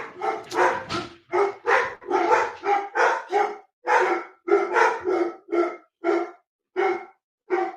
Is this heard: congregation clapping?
no